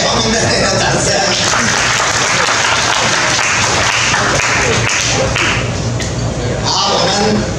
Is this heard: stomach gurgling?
no